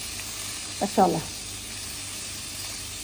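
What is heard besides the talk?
blended garlic, shallots and ginger sizzling in hot oil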